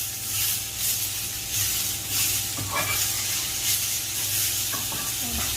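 Tomatoes fry in a little oil in a pan for a leafy greens chutney, giving a continuous soft sizzle and hiss with occasional stirring scrapes, fairly close.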